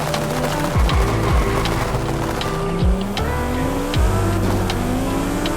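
In Forza Horizon 5, a 1250HP Lamborghini Huracan Technica launches hard: loud, close engine roar with repeated rising revs and sharp falling gear-shift sweeps, several in quick succession.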